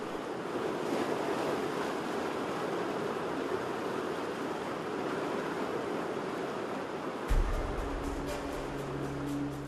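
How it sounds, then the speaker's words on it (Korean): Strong ocean surf rolls in along the rocky shore of a Galápagos island, a loud, steady roar of breaking waves with wind buffeting. A low mechanical hum joins near the end. "바닷물은 순식간에 차오르고 거센 파도까지 몰려오기 시작합니다."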